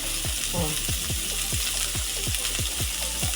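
Chillies fry in hot oil, a loud constant sizzle with a quick repeated scraping rhythm from stirring in the pan.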